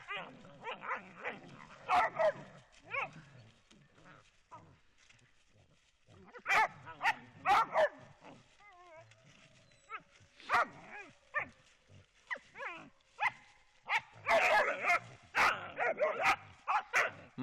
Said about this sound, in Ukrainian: Собаки добрали і зараз повинні насолодитись тим, що